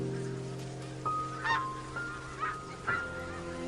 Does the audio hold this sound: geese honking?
yes